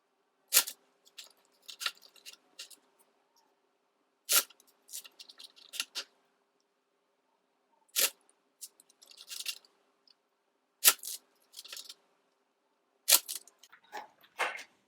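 Crisp riffling bursts of cards being shuffled, repeated in short rounds with quiet pauses between, close and fairly soft.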